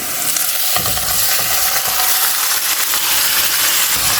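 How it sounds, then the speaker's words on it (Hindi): Marinated chicken lands among golden-brown fried onions in a pan, and a loud, close sizzle surges and then holds as a bright, continuous hiss with scattered crackles and no talking. "अब मैं इसमें डाल दूँगी मैरिनेशन किया हुआ चिकन"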